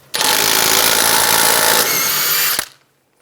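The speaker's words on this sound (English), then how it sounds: "Using a 32mm socket, take the axle nut off." An impact gun with a 32mm socket spins off the front axle nut on a 2003-2008 Infiniti FX35, a loud, steady mechanical whir lasting over two seconds that shifts pitch near the end before stopping abruptly.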